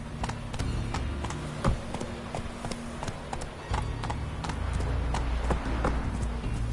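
Horse hooves clip-clopping at a steady trot in The Witcher 3 video game, close and continuous over a low background score, with sharp regular strikes throughout.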